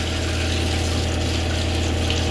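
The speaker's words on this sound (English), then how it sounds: "So this should be pumping some hot water right now." Water pump in a food truck pushing hot water from a propane heater, a steady loud droning hum with a constant rush of liquid, close by and running without pause.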